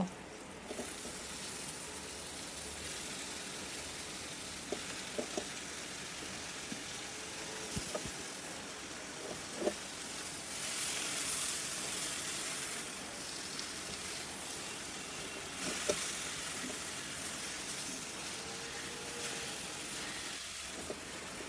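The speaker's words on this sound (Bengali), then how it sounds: "এইভাবে আমি শাক ভাজি করে নিয়েছি।" Leafy greens (shak) fry in a pan with a soft, continuous sizzle and hiss, broken by occasional clinks of a utensil and brief swells of steam.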